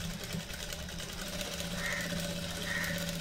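A sewing machine stitches a rose-style blouse collar, running with a close, continuous mechanical whir and a rapid even chatter of the needle.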